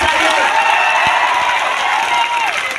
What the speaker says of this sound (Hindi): तो फिर आपकी तालियों का शोर दिल्ली तक जाना चाहिए